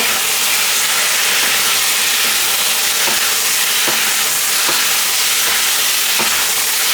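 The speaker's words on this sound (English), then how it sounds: "You just keep on stir frying it." Shiitake mushrooms stir-fry in hot oil with a loud, continuous sizzle and hiss. A utensil scrapes and clinks against the pan now and then, with no talking.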